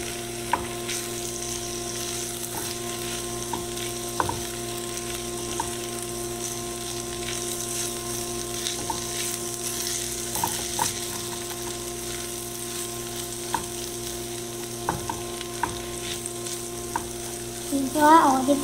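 Bitter gourd (ampalaya) and egg frying in a pan while being stirred, a steady low sizzle running throughout with faint scrapes and clicks, swelling into a louder burst of sizzling near the end.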